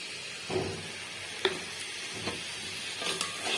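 Steady sizzling of katla fish frying in hot oil with spice paste, with a few soft clinks and stirring noises over a continuous crackling hiss.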